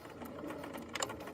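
A sewing machine back stitches at the start of a seam on a fanny pack's top flap, a short steady mechanical whir close by, with a brief louder burst near the end.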